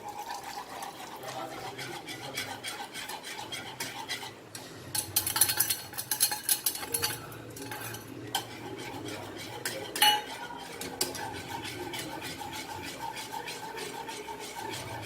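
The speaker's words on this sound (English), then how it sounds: "So now I will add this and stir it." Cornstarch slurry stirred into a cheese sauce in a pot, with continuous soft scraping and clinking of a utensil against the pan and a brief louder burst of clatter midway, close and moderately quiet, no voices.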